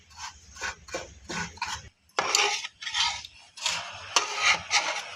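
Milk powder roasting in ghee is stirred quickly in a pan, giving a run of brisk scraping and rubbing strokes, close and fairly quiet, with short pauses between bursts.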